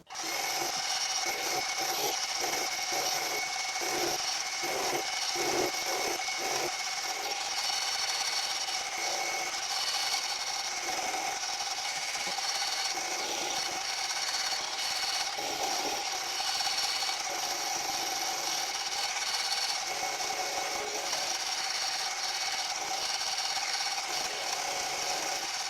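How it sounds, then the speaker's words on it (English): A 1/8 inch milling cutter cuts a slot in a rear tool post base casting, a continuous close grinding machine whine with steady cutting chatter, uninterrupted and with no voices. "Now I've got an 1/8 milling cutter in. I'm going to mill out first of all an 1/8 slot"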